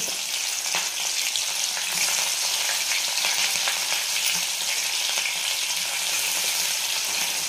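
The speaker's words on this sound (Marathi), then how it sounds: "तर आता ह्या राहिलेल्या तेलामध्ये आपण हिरवी मिरची टाकणार आहे." Green chillies frying in leftover oil after peanuts were fried, while making sabudana khichdi: a loud, steady sizzle with scattered sharp crackles and pops, close up and continuous, no talking.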